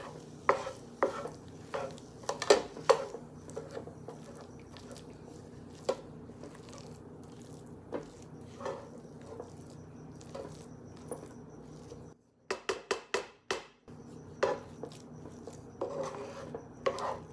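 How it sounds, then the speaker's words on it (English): Rice and cream cheese stirred together in a hot pan, giving soft scraping and clicking strokes of a utensil at close range, irregular through the stretch with a brief pause and a burst of sharper taps near the end; no talking. "Just stir it until it's thoroughly mixed."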